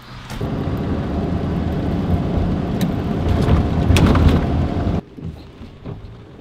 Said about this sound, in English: Very light rain, but very constant.